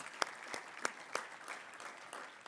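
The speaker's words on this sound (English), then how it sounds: "They absolutely deserve another round of applause." Audience applause at a leadership summit in Chicago, a soft, fairly distant patter of clapping with a few sharper individual claps standing out, steady and fading slightly toward the end, with no talking.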